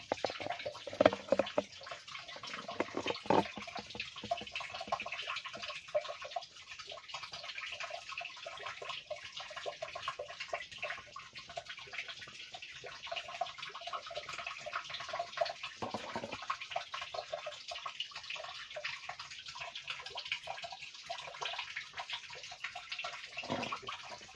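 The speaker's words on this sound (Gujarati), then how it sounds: "તો દોસ્તો, અહીંયાથી પાણી પડે છે જુઓ" Water drips and trickles inside an old, long cave, a faint, continuous watery patter echoing softly with no voices.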